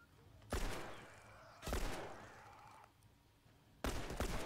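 Three loud, separate gunshot blasts from the video game The Last of Us, each with a sharp attack and a ringing tail, spaced about a second or two apart, the last one hitting hard near the end.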